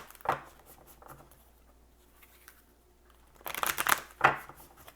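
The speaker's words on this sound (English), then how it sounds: "I'm going to shuffle and see what comes out here." Archetype oracle cards shuffled by hand for a Virgo reading, giving soft papery riffling bursts: a brief one near the start, then a louder flurry of riffles toward the end, close up with no talk.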